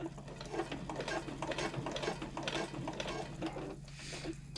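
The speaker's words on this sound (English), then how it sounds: "I'm going to lift my foot, pivot, and sew across this line." A sewing machine stitches a strap connector onto a handbag, running in a steady rapid mechanical chatter of needle strokes with small pauses as it pivots, close and fairly quiet.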